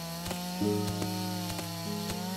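Chainsaw cutting wood in the survival video game Longvinter, a steady buzzing engine drone with a pitch step upward partway through and regular rhythmic chopping pulses, moderately loud with no talking.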